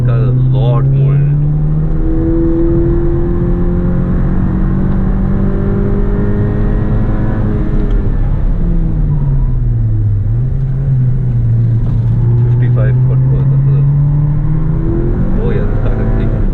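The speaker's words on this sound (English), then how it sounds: "Oh yeah, this car has a lot more in it." A Renault Clio RS245 hatchback on a race track at Buddh International Circuit, engine droning loud and constant in the cabin, pitch climbing and dipping through gear changes with steady road and wind roar.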